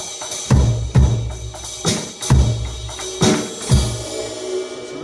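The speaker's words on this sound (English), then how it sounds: "you can play as though you're playing with brushes instead of playing with sticks, and it sounds like this" Soft, swishing brush strokes played on a Spur RD522P electronic drum kit set to a brushes sound fall in a relaxed, steady rhythm, each muffled hit paired with a gentle sweep and no talking.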